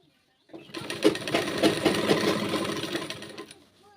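A sewing machine stitching a Rajasthani kanchli blouse, one continuous run of rapid needle chatter lasting about three seconds, close and fairly loud, starting and stopping cleanly.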